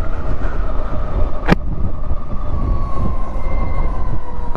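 Electric motorcycle accelerating, its motor giving a sustained rising whine over loud rumbling road and wind noise, with one sharp click partway through and no voices.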